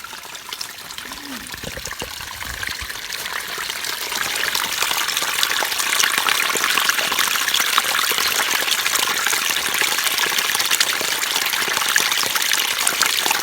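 A small forest creek on a long hike along the Florida National Scenic Trail in northwest Florida trickles and splashes steadily, the broadband water noise growing slightly louder after a few seconds and continuing alone.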